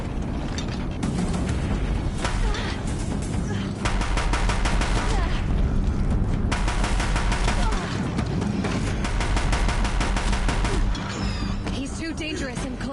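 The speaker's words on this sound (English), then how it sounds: "keep firing, this bridge will go." Heavy gunfire in a video game during a fight at a bridge, dense rapid bursts and mechanical clatter layered over a loud constant din of game sound and voices.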